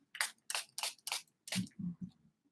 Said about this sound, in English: all that I do is apply a Time Locker setting spray